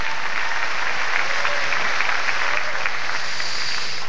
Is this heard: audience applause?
yes